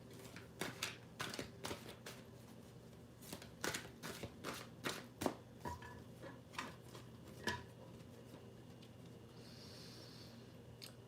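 Tarot cards being shuffled by hand, close and quiet, in a series of short crisp riffling bursts with brief pauses between them.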